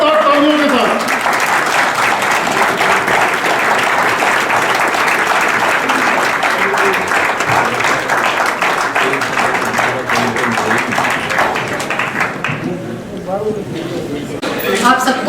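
A large audience gives loud, sustained applause for a speaker at a law college international seminar, dense clapping that fills the room and fades near the end as voices come through.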